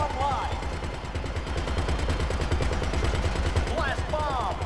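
Rapid automatic gunfire from a gun tower turret in GTA Online, a steady dense stream of shots running throughout over game noise, with brief whooshing effects near the start and end.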